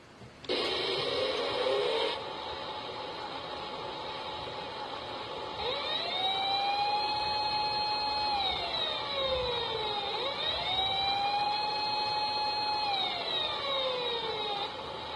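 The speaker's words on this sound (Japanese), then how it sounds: "パトロールカーを運転してみよう。アクセルボタンを押してね。" Toy patrol car siren effect from a Japanese sound picture book: a loud electronic wailing siren rising and falling in repeated sweeps, preceded by a brief steady tone, continuous throughout with no talk.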